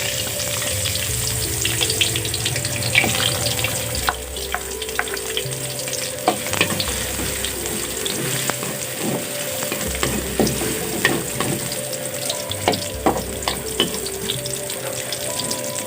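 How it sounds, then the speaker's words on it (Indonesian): Sliced garlic and shallots fry in hot oil for a spicy tempe dish, a dense, loud, continuous sizzle close by, with scattered crackles and spatter pops and occasional stirring scrapes. "Setelah masak panas, masukkan bawang putih dan bawang merah"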